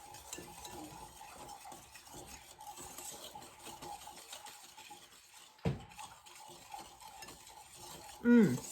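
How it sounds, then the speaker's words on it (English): Peanut butter sheet cake batter is mixed in a bowl, giving faint, rhythmic stirring strokes with a few light clinks of a utensil against the bowl. "I'm just going to give that a good mix"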